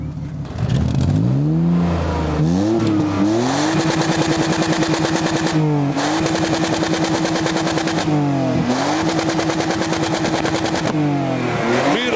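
Car engine revving hard, loud and close, with rising and falling surges over a rough, rattling idle and a steady held high-revving stretch.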